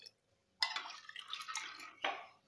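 Water poured into a pan of jackfruit curry, a short burst of splashing and sizzling after a quiet start, then a second brief pour near the end, close and alone.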